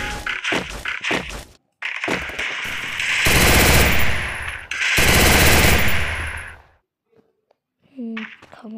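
An MP40 submachine gun fired in the Free Fire mobile battle royale game, with sustained loud automatic bursts and short gaps between them, followed by quieter game sounds near the end.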